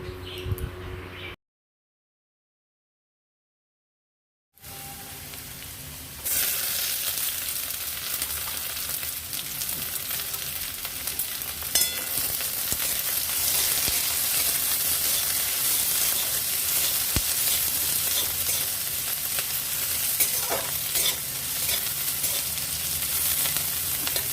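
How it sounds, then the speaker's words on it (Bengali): Potatoes frying in a pan with crushed garlic, chopped onion and green chillies, giving a loud, continuous hiss and sizzle that swells after a brief silent gap and carries on steadily, with faint stirring scrapes. "আলুগুলো একটু ফ্রাই হয়ে যাবার পর দিয়ে দেব পাঁচ ছটা খেতো করা রসুন পেঁয়াজ কুচি কাঁচা লঙ্কা"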